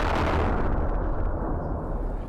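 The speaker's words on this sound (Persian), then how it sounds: "هارمونی گوش خراش انفجارها و رگبارها" Loud, continuous roar of explosions and gunfire from fighting between the army and paramilitaries in Khartoum, Sudan, a dense unbroken barrage with no voices.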